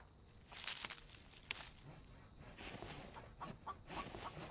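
A rooster clucks in the video game The Infected, in a swamp area at night. Soft, scattered clucks and scratchy rustles sound at a middle distance over steady ambient noise, with no talk.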